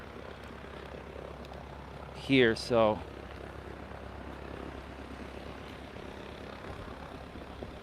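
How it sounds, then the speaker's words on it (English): A propeller airplane taking off makes a steady, broad engine drone throughout, loud and constant, with a short burst of speech partway through. "The plane is taking off"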